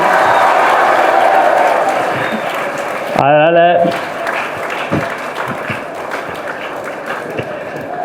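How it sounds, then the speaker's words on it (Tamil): Clapping from an audience at a special school event in Pondicherry fills the room, a steady patter of applause with a short tonal sound breaking through midway and a voice speaking briefly. "முழுக்க தலைவர் தளபதிக்காகத்தானே இந்த கைத்தட்டல்லாம்"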